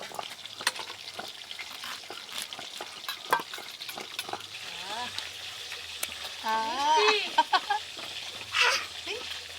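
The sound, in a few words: snakehead fish frying in a pan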